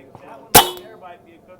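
One sharp, loud shot from a Benjamin Bulldog .357 big-bore air rifle cracks out close by, a short burst with a quick fade and quiet surroundings before and after.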